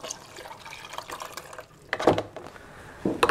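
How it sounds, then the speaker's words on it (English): Cold tap water is poured into a home coffee maker, a moderate splashing trickle that comes in uneven bursts and pauses near the end. "I'm going to just, you know, put the water in the coffee maker"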